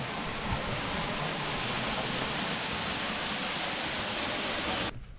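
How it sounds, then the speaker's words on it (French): A waterfall in Cyprus roars steadily and close, a dense unbroken wash of falling water that fills the whole clip before cutting off abruptly at the end. "la cascade est super belle"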